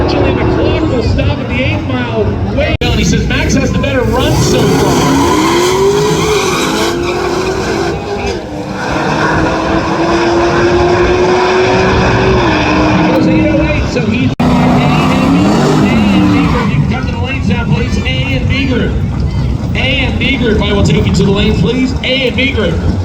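Blown drag racing cars at Tulsa Raceway Park roar loudly and continuously, with skidding tire squeal and rising engine pitch sweeps, while a voice talks over the din.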